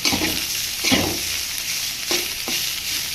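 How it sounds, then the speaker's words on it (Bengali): Gourd, carrot, turnip, bean and potato pieces frying in oil, a loud steady sizzle broken by a few spatula strokes and scrapes against the pan, with no one talking. "এখন শুধু তেলে ভাজবো, পরে দেবো"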